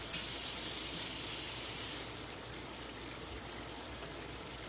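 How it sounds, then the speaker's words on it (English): Tap water runs steadily as something is rinsed under it for a homemade beef chili, a soft, even hiss that stops after about two seconds and leaves a quiet room tone. "Let me rinse this off"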